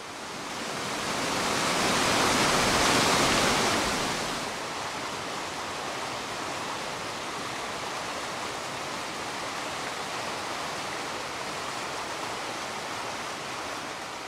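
Water from the Chevré river pours over a weir beside a bridge, a broad constant rushing roar that swells louder for the first few seconds and then settles into an even, unbroken hiss.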